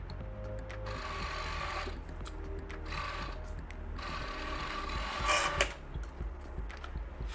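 A sewing machine stitches the bottom seam of knit shorts, running in short close bursts of rapid whirring separated by brief pauses and fabric handling.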